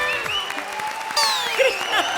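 A studio audience at a comedy show applauds in a brief burst of clapping. Bright whooshing sound effects sweep over it, and no one speaks.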